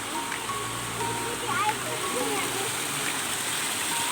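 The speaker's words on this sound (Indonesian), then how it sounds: "kita melewati sungai seperti ini ya" A river stream flows steadily at a hillside resort in the Puncak area, a broad continuous rush of water close by that fills the whole clip with no clear voices.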